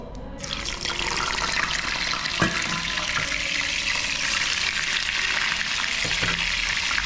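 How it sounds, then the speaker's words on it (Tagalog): Vinegar-marinated tilapia dropped into hot oil in a pan, a sudden loud hiss settling into a steady, crackling fry that continues close and unbroken. "mayroon tayo ditong mantika sa kawali na mainit. Tapos yung ating binabad ulit na tilapia sa suka"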